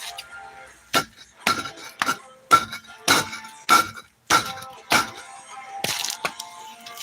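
A hammer strikes a car jack, about ten sharp metallic whacks spaced roughly half a second apart, close and loud with a slight ring, followed by smaller knocks, with no talk.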